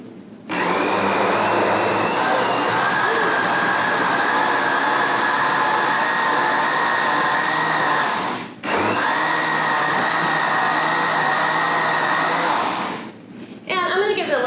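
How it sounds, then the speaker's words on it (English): A blender whirs loudly and steadily, blending a strawberry yogurt popsicle mix, with a brief dip in the motor near the middle before it ramps back up and then cuts off near the end. "We're going to blend this up."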